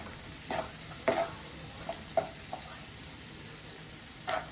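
Onions with a pinch of turmeric fry quietly in a pan for a paneer and cashew curry, a soft sizzle punctuated by a few sharp scraping stir strokes, with no speech.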